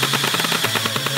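AI-powered person-tracking airsoft turrets firing at a person, a fast continuous stream of rapid mechanical shots with a steady motor hum, loud and close, with no talking.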